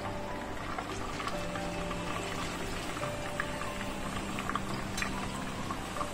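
Green chillies frying in hot oil for a highway-style chicken karahi, giving a steady, dense bubbling sizzle with scattered pops throughout, no talking.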